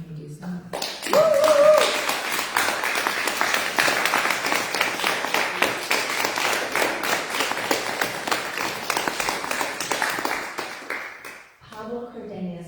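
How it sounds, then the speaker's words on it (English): A livestream audience claps for a live band after a jazz piece, a steady crowd of hands rattling on for about ten seconds before tapering off, with a brief voice at the start and some speech near the end. "if you would like to show your appreciation to the band by clapping, you may do so"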